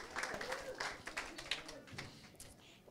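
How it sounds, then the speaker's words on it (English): Small audience giving faint, scattered clapping for a student finishing a class, a light patter of hands heard at a distance with voices mixed in. "Give her a big round of applause for completing the class"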